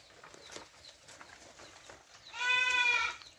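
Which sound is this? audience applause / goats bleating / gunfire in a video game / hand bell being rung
goats bleating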